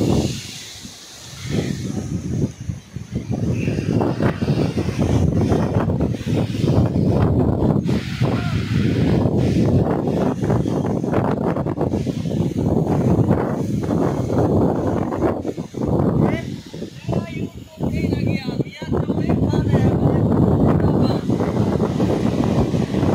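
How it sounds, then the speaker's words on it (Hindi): Strong storm wind in a dust storm roars and gusts loudly and continuously outdoors, buffeting the microphone with brief lulls, no voices heard. "बहुत ही तेज हवा है और ये है जी हमारी हालत"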